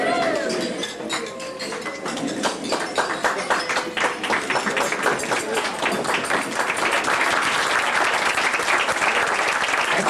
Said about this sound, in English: We give them a round of applause for that.